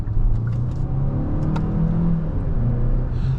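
A 2026 Kia K4 GT-Line turbo hatchback with an 8-speed gearbox, in sport mode, pulls onto a highway; a steady, close engine and road drone holds for the whole stretch with no break.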